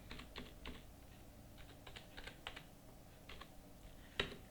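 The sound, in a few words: typing on a computer keyboard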